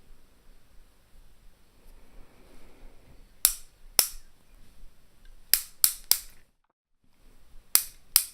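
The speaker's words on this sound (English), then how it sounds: "The clicking noise is me twisting the cap." Sharp plastic clicks from twisting the cap of a gel polish pen, close and crisp, come in scattered bursts: two single snaps, then a quick run of three, a short pause, and two more.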